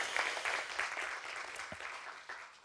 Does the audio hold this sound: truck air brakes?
no